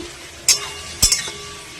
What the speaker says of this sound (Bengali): এটাতে এখন ভাজা হচ্ছে।